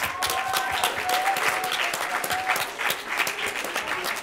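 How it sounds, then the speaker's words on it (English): Warm applause from an audience for school children at a school games event, steady dense clapping from a crowd throughout, loud and close. "give a big warm round of applause to all the school children"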